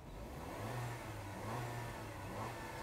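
A 2017 Peugeot 3008 engine in sport mode revs steadily, rising and falling in several moderate surges with a low droning hum, heard close with no talk.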